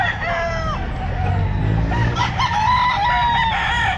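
A rooster gives a loud, close crow with a rising then falling drawn-out call, among other fowl at a pet market. Steady crowd noise fills the background throughout.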